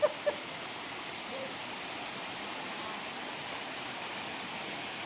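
The Mayil Ootru waterfall pours down in a steady, even roar of rushing water that fills the whole scene, with two brief clicks at the very start.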